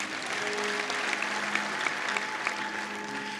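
A church congregation in a hall claps together after a sermon, sustained dense applause with a few sharper claps standing out, steady throughout.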